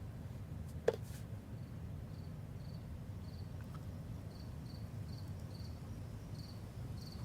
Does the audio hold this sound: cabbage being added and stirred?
no